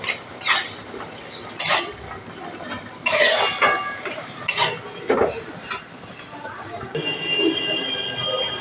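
Malabar spinach and hilsa fish head curry being stirred in a pan, giving intermittent scraping clinks of a spoon against metal with soft sizzling between, close by.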